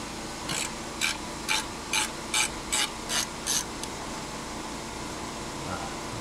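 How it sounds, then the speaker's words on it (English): Compressed air hisses through dusty tractor air filters on a farm in eight regular, evenly spaced bursts, each short and bright against a steady engine hum, then the blowing stops. "I'm gonna take out the air filters, blow them off, and then blow out the radiator and fan"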